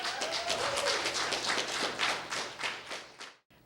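Audience applause at a spoken-word open mic night, a dense burst of many hands clapping close and loud for about three seconds before cutting off abruptly, with no talking over it.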